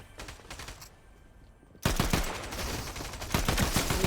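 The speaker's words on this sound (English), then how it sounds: "Someone shooting me from behind?" Gunfire in a video game erupts behind the player after a quiet stretch, a sudden burst of rapid, loud shots and crackling rounds that keeps going densely to the end.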